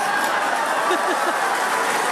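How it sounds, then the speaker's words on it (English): A crowd at a SpaceX Starship flight test broadcast applauds and cheers over a live view, a steady wash of clapping with a few brief whoops, heard at a distance under an announcer's voice. "The crowd very excited to see that view."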